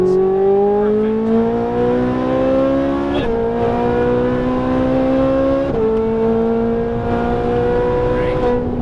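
A Ferrari 458 Italia's engine revs hard on a race track, rising in pitch through three climbing pulls with brief shifts between them, loud and close throughout.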